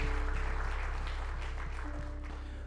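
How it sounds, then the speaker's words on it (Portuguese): A church congregation applauds loudly and steadily during a service, dense clapping over a low hum of music and crowd noise. "Então vamos aplaudir a Ele bem forte."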